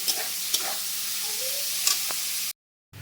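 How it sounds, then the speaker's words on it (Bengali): Onion fries in ghee with a close, steady sizzle and a few light stirring clicks, cutting off abruptly near the end. "পেঁয়াজটাকে একবার লাল করে ভেজে নিতে হবে খুব সুন্দর একটা গন্ধ বেরিয়েছে যেহেতু ঘি দিয়েছি"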